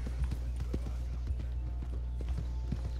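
Horse hooves clip-clopping in Red Dead Redemption 2, a steady rhythm of soft, muffled hoof strikes under a constant low rumble and background game sound.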